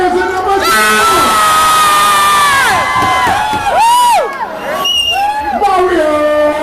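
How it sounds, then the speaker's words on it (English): Dance battle crowd cheering for the second dancer, loud sustained screams, whoops and yells swelling in waves, close and dense. "Make some noise for dancer number 2."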